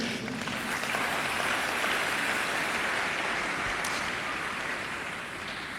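A church congregation applauding the Lord, a dense, sustained wash of many hands clapping that fills the room and slowly tapers toward the end.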